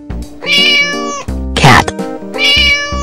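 A cartoon cat meows loudly and close by, three drawn-out calls over a light children's music backing, with a short burst of noise between the second and third.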